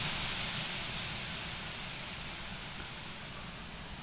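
A jet airliner taxis at night in a flight simulator on a Minneapolis to Chicago flight, its engines giving a steady whine and roar with a thin high tone, slowly easing in level, no speech.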